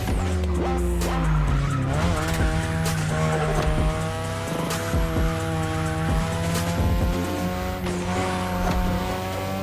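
A third-generation 2002 Mazda RX-7 with a rotary engine, racing in The Crew Motorfest, skids with sustained loud tire squeal over its high-revving engine, the pitch sweeping through gear changes without pause.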